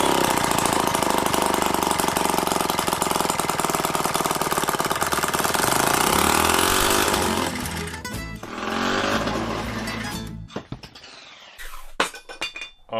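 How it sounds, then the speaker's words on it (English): A homemade two-stroke engine built from hardware store parts runs indoors at a loud, buzzing, chainsaw-like pitch with metallic clinking. It then sputters, slows and cuts out in uneven bursts before a few last rough pops. "This thing runs, and it runs far better than anything I have ever made."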